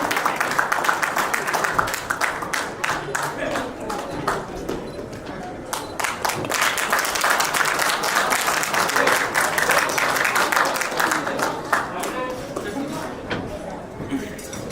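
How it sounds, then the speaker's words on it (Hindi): Audience applause at a travel company's ninth anniversary celebration and AGM: sustained, dense clapping with sharp individual claps, loud and continuous, with chatter and a voice over it. "जोरदार तालियां भाई"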